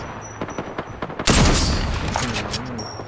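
Gunfire in Apex Legends comes as a series of sharp single shots, then a loud heavy blast and sustained rattling fire that fades slowly.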